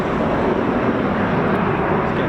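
A Eurofighter Typhoon jet flying low over RAF Coningsby produces a steady, loud, broadband roar that holds even for a couple of seconds, with no voices.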